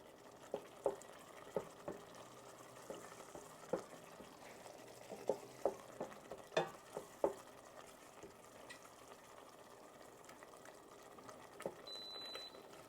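Tomato sauce for chilaquiles cooks in a pan, a faint steady sizzle broken by intermittent clicks and scrapes of stirring, close by with no talking.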